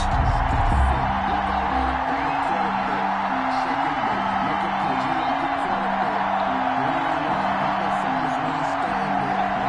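A stadium crowd in a PS4 football video game, Buffalo Bills against Baltimore Ravens, roars as a dense, continuous wash of cheering and whoops, loud and steady throughout with a repeating low chant-like pattern underneath.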